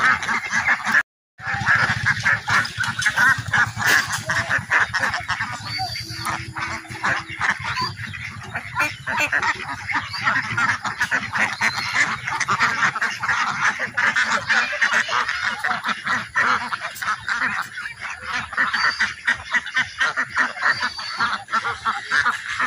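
Free range ducks on a farm, a dense chorus of loud, repeated quacking and honking calls near and around, continuous over steady outdoor background noise.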